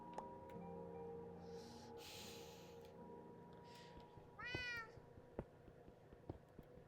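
A cat meows once, a rising wavering cry heard faintly amid a quiet room with background hum and soft clicks.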